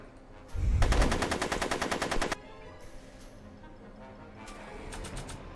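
Rapid burst of automatic gunfire in Back to the Future: The Game, loud and close for about two seconds. It cuts off abruptly into a quiet background hum.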